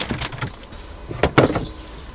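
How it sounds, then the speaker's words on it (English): A shower curtain is pulled open in a camper van bathroom, a few quick close rustling swishes and light scrapes of rings sliding along a rail. "So we open the curtain"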